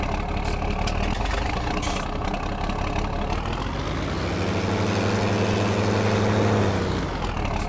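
Fiat 180 Turbo DC tractor engine in Farming Simulator 2019, a continuous low diesel rumble whose pitch settles into a steadier, deeper hum midway before shifting again near the end.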